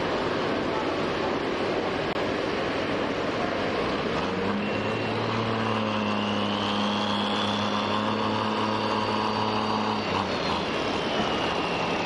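A pulling tractor's engine roars at a tractor pull at the fairgrounds in Baraboo, a loud, sustained drone that rises into a steady held tone over the middle seconds and then drops back, with crowd-like noise underneath.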